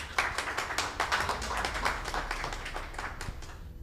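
An audience applauds at an evening event in Angola, a lively burst of many hands clapping close and loud, gradually thinning out over a few seconds.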